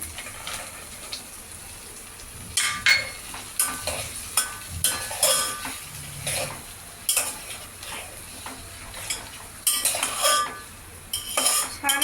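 Peas being stirred into masale bhat in a pot, with a series of scraping, clinking spoon strokes against the metal in irregular bursts over a soft background hiss, close and moderately loud.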